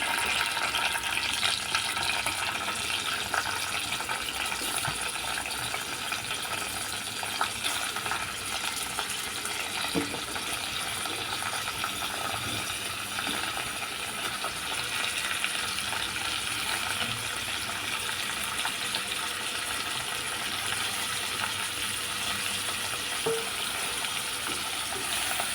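Mixed vegetables sauté in oil inside a pressure cooker for veg pulao, giving a steady, close sizzle with faint stirring clinks throughout and no talking.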